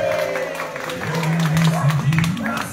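Family members clap for a father's birthday outdoors in light drizzle, a scattered round of hand claps mixed with voices and laughter close by.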